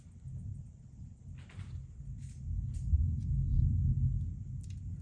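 A low, distant rumble of thunder rolls and swells gradually, with a few faint knocks on top.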